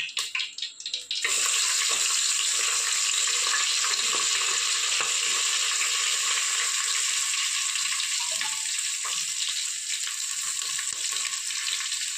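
Garlic, cumin, mustard seeds and asafoetida crackle and sizzle steadily in hot oil, a dense continuous frying hiss with scattered pops, close and fairly loud, no talking.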